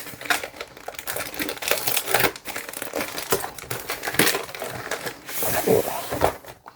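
A padded AliExpress mailer holding a Lenovo tablet is torn and crinkled open up close, with continuous crumpling and ripping rustles of plastic and bubble padding.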